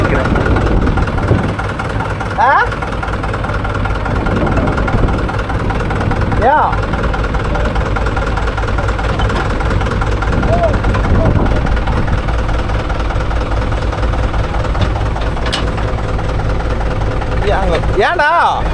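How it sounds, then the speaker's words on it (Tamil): A JCB 3DX backhoe loader's diesel engine runs steadily throughout at close range, a continuous low rumble with brief metallic clanks, while people talk over it. "ஜேசிபி 3ஆம் கட்டிங்கின்னு ஓடிட்டு இருக்குது"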